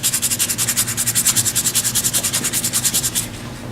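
Soft wood on a lathe being sanded with 180-grit sandpaper while the turned piece spins, a steady fast rhythmic scratchy pulsing, close and clear, fading as the paper lifts off near the end.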